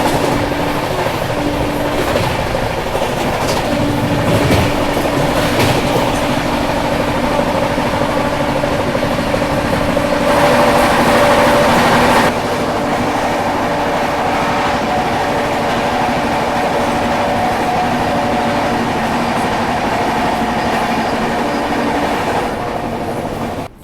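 Maharashtra Sampark Kranti Express running at speed while overtaking the Tirupati Humsafar Express, a steady loud rumble of wheels and carriages with rhythmic clatter throughout, a brief tonal whine midway.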